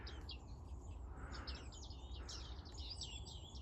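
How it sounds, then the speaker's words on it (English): Bearded tits call in a reed fen at Strumpshaw Fen with a robin singing: a thin, high run of pinging notes and warbling phrases, faint and distant over a steady low rumble of wind. "Those are the bearded tits pinging. You've got a robin singing as well."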